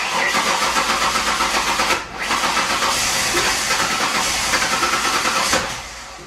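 A 2008 Ford Explorer with a 4.0 V6 engine cranking and trying to start, a loud continuous mechanical churn lasting several seconds with a brief dip midway, heard close up and alone.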